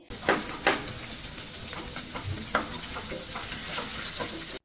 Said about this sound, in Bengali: আলুগুলোকে দিয়ে দিব এবং এগুলো বাদামি হওয়া পর্যন্ত ভেজে নেব